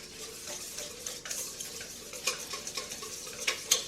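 Butter and wet ingredients for Christmas cookie dough being stirred in a bowl, a steady scraping, swishing mix close by with a few sharper clinks of utensil against the bowl toward the end, no talking.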